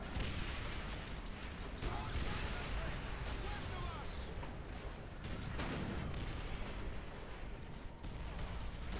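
Flak gun fire in Call of Duty: World at War, a steady barrage of bursts and booms in a noisy battlefield mix, with a player's voice partly over the gunfire.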